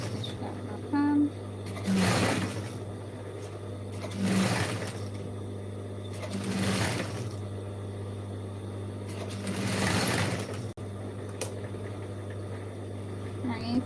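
Sewing machine running in bursts while stitching a jeans bag, a steady motor whir with about four louder surges of stitching over a constant hum, close by.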